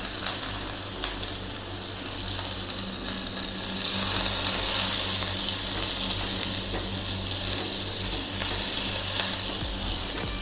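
Curry leaves hit hot oil for a South Indian appam recipe, giving a steady, close, hissing sizzle that swells slightly midway and carries on with no talking.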